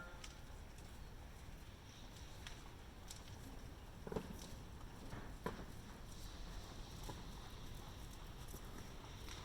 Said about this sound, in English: Go ahead and trot again.